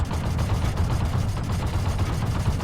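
Tank guns fire in World of Tanks, including an M2 Light, T18 and D1, as a dense, loud, continuous barrage of overlapping bursts and heavy rumble with no gaps.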